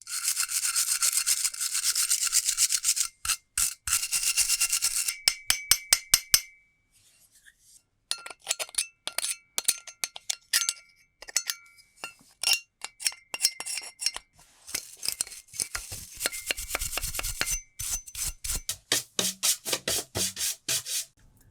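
Scrubbing and rubbing on an old metal wood plane during cleaning, heard as bursts of close, gritty scraping strokes with brief pauses and a few light metallic clinks.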